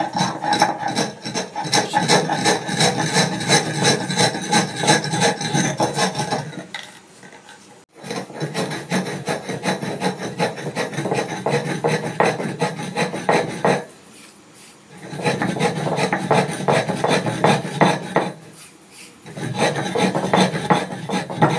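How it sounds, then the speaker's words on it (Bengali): Sugar is ground into powder for mango ice cream, a dense rasping, grinding whir that runs loud and continuous, stopping briefly twice before starting again, with no voices. "চিনি আমি গুঁড়ো করে নেব।"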